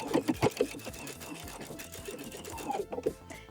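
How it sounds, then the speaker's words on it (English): Sewing machine edge stitching two layers of fabric for homemade cozy slippers, a steady close whirring hum with a slight rhythmic chatter running through the short stretch, moderately quiet. "we're just gonna sew these 2 layers together about 1/8 of an inch away from the edge"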